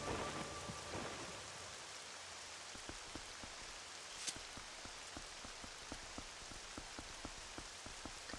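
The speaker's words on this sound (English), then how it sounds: "So the thunderstorm is used more to set the mood of the place, being old and run down." Steady rain in a Twilight Princess thunderstorm at a run-down old place, with distant rumbles of thunder and a sharp crack near the middle over the continuous downpour and dripping drops.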